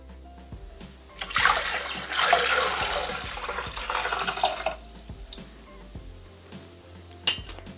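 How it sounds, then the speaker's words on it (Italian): Water pours steadily into a Thermomix TM6 mixing bowl for a rice salad, a splashing rush lasting a few seconds, framed by light clinks of the bowl and utensils, with no speech. "Iniziamo la ricetta mettendo all'interno del boccale l'acqua"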